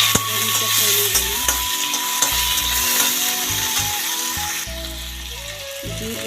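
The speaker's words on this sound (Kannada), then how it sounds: "ಟೊಮೊಟೊ ಸಹ ಹಾಕ್ತಾಯಿದ್ದೀನಿ. ಇದನ್ನು ಸಹ ಫ್ರೈ ಮಾಡೋಣ." Tomato frying in a pan gives a steady, close sizzle, with intermittent stirring and scraping clatter throughout and no talk.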